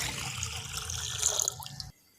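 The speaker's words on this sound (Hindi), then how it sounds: "इसके अंदर मैं 2 गिलास पानी के शामिल करने लगा हूँ" Water poured steadily from a glass into a cooking pot holding cinnamon sticks and cloves, a close, continuous splashing pour lasting almost two seconds before stopping abruptly into silence.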